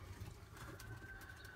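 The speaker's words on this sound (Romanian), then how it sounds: "Cam ăștia sunt porumbei mei de reproducție" Breeding pigeons in a loft coo softly and steadily, a low murmuring drone with a faint whistle-like tone over it, continuous and fairly quiet throughout.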